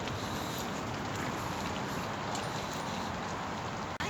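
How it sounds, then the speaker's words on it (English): Steady rain falls at a February wild camp, a continuous broadband hiss of drops with some wind, close and unbroken until a brief dip near the end. "Well, it started raining"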